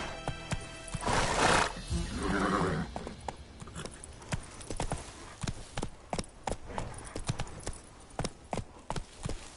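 Horse hooves clip-clopping in The Witcher 3, a burst of louder galloping and a snort early on, then a steady run of sharp hoofbeats close by with no talking.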